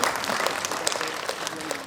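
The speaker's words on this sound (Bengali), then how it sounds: "আমি আপনাদের কাছ থেকে শ্রীমতী দীপা চক্রবর্তীর জন্য একটা জোরে হাততালি চাইব।" A hall audience gives loud, continuous applause for Smt. Dipa Chakraborty at a live musical programme, a thick wash of many hands clapping at once.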